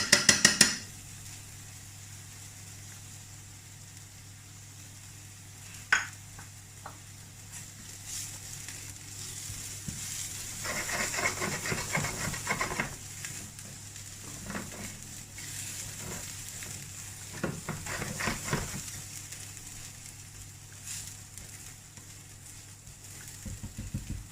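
Garlic sizzles in a frying pan for a razor clam and cockle vongole, a soft steady hiss with occasional clinks and scrapes of utensils against the pan, heard close with no talk.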